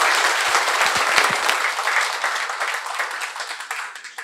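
A large audience breaks into loud, sustained applause to welcome Doh-ol to the podium at a commemorative lecture for Manhae Han Yong-un. A few sharp individual claps stand out at the start, then the dense clapping carries steadily to the end.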